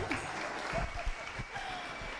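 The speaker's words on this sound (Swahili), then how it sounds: "Makofi rĩngĩ." A congregation claps during a Kikuyu Sunday church service, producing a dense, steady patter of applause for about two seconds. Some voices can be heard faintly underneath.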